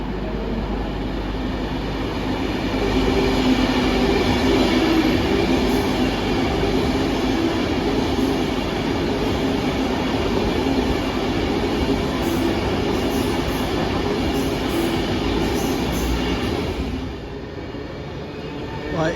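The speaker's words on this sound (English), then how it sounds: "it's 390 153, diverted Avanti service from Glasgow Central to London Euston." Class 390 Avanti West Coast electric train passing through Stoke-on-Trent station on a diverted Glasgow Central to London Euston service, a loud sustained rumble with rail clatter and faint wheel squeal that eases near the end.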